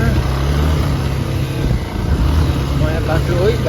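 An off-road motorcycle engine laboring uphill on a rough new track near Sindhuli, Nepal, a close, steady low rumble that holds throughout while a voice talks over it.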